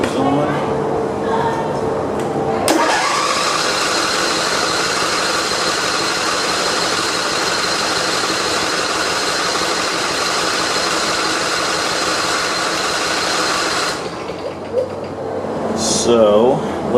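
A John Deere lawn tractor engine, choke on after fresh gas, cranks and catches, then holds a loud, steady idle up close for about eleven seconds before cutting off, with a few short noises after.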